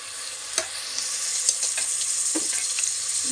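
Cauliflower, beans and knol-khol fry in hot oil in a pan with a steady broadband sizzle, while a spoon stirs them in a few distinct scraping strokes. No one speaks.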